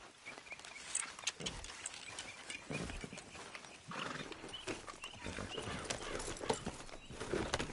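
Horse hooves clop along in an uneven trotting rhythm in Red Dead Redemption 2, close and moderately loud over a soft outdoor ambience.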